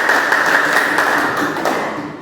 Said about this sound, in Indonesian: Oke, sekali lagi tepuk tangan untuk Anda semua.